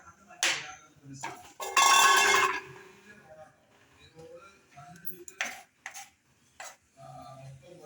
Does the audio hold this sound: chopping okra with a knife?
yes